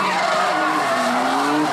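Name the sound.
drift car skidding at D1 drift event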